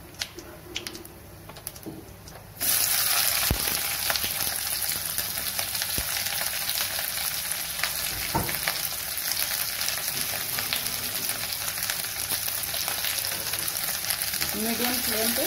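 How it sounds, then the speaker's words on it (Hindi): Sliced onions hit hot mustard oil with bay leaf, cumin and black pepper over a medium flame for a cabbage dish, bursting into a loud, steady sizzle after a quiet start and crackling continuously up close. "मीडियम फ्लेम पे प्याज को भून करके मैं गोल्डन ब्राउन कर लूंगी"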